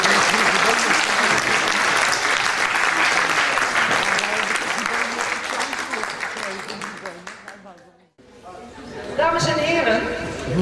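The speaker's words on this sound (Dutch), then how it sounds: "Dames en heren, even een applaus de bewonersgroep van het slachthuis." Audience applause in a hall, broad steady clapping from a crowd that swells, then fades out to near silence before a brief murmur and a voice returns at the end.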